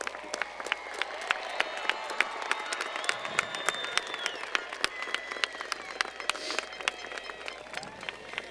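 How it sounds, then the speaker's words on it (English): A high school graduation audience applauds families in a large hall: a continuous wash of many hands clapping at moderate distance, with scattered cheers and crowd murmur running through. "graduates, please stand and join me in giving them a round of applause."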